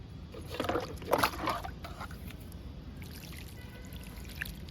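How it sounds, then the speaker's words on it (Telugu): Water gushes out in a few splashy pours onto compost of dry leaves and kitchen waste in a tub, then settles into a soft trickle over a steady low background rumble. "ఇంకా వాటర్ ఇద్దామండి కంపోస్ట్కి"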